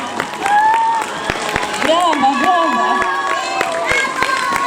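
Applause from a school audience after a student performance, sustained clapping with some cheering, mixed with a sung or spoken voice running over it throughout.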